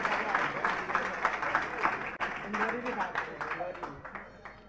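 Audience clapping at a grand Panch Kalyanak religious festival in Amarkantak, a dense rattle of many hands that runs steadily throughout, with voices and crowd murmur mixed in.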